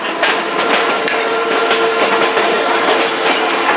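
A steam locomotive on a GSMR railroad excursion rolls along the rails, heard from aboard the train as a loud, steady rumble with rhythmic clicking and a faint tonal whistle running underneath.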